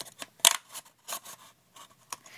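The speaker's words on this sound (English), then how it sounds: "So I'm just gonna cut this really fast." Scissors snipping through a plastic mouthwash cup, a handful of short crisp cuts spaced unevenly over a couple of seconds, close and clear with no talk.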